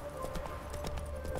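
Horse hooves galloping in The Witcher 3 with a rapid, steady clip-clop rhythm of repeated hoofbeats, fairly close, over a constant low game soundscape.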